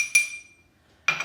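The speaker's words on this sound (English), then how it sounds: "put the other ingredients into the bowl. So in goes the chopped spring onions" Chopped spring onions dropped into a bowl while making a starter, two short bright clinks of the bowl, the first followed by a ringing decay and a quiet gap, the second a louder rattling knock near the end.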